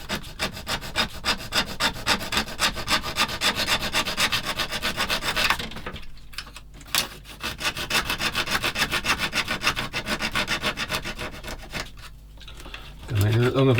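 Plastic parts of a 1/16 scale Takom M10 Achilles tank destroyer model are sanded with steady rapid back-and-forth rasping strokes, close up, with a short pause midway and a brief knock near the end.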